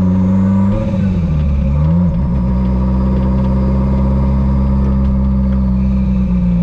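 A Renault Maxi 5 Turbo engine labours through a hill start, idling low, then revving briefly before settling into a steady, rumbling drone, loud and close with no talk.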